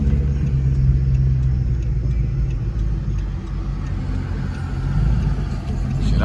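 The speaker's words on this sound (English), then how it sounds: "Goddamn big ass truck." A big truck at a car meet gives a steady, loud low engine rumble with road noise that holds throughout, close by and with no talk over it.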